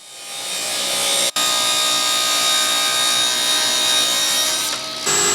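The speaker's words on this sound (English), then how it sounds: "over at the table saw, I used my tapering jig to give the legs a 3/4 inch taper" A table saw with a tapering jig cutting a taper into a wooden table leg: one continuous loud high whirring cut lasting about five seconds, with a brief sharp interruption near the start.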